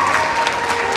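Audience applause at a circus show for a balancing act, a dense, steady wash of clapping from a crowd in a brief burst.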